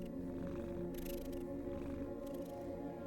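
A pet cat purring in a low, continuous rumble picked up very close to a sensitive microphone, steady for several seconds, with faint higher rustles drifting in and out and no speech.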